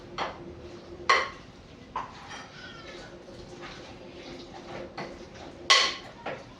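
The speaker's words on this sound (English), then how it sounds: "So you ensure you mix very, very well." A spoon mixing homemade coleslaw in a bowl, with soft stirring and several sharp clinks of utensil against the bowl, the loudest near the end, over a quiet background.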